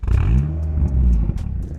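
Big-turbo Honda Civic hatchback engine revving loudly up and down nearby, a throaty rumble with rising and falling pitch sweeps and intermittent crackles and pops.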